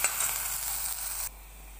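Onion and dry red chilli sizzle in hot oil along with garlic and bay leaf, a close, steady hiss that cuts off abruptly near the end.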